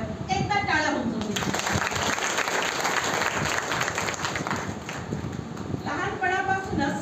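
Audience applause in a hall at an International Women's Day event, steady clapping lasting several seconds, with a voice speaking over it at the start and end.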